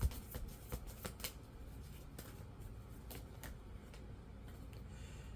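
Quiet, steady riffling and soft flicking of cards being shuffled, with a few sharper snaps early on, close by and with no talking.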